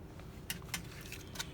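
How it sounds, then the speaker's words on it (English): A fresh pair of scissors being handled, giving three or four crisp metallic snips and clicks over a low background hum, close and brief. "as I break out this fresh pair of scissors that I got specifically for this task"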